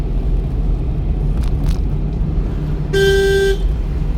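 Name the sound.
car horn honking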